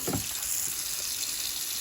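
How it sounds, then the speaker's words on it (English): Cold tap water runs steadily into a sink, a constant hissing splash with a brief clatter of cucumbers being rinsed near the start. "And just rinse them off real good."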